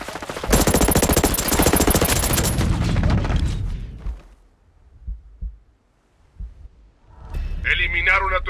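Dense rapid gunfire bursts in the video game Tom Clancy's Ghost Recon Breakpoint for a few seconds, then fades into scattered thumps and quiet before a voice speaks over renewed game noise.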